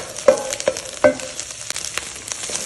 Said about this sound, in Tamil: இப்போ வெங்காயத்தை போட போகிறேன்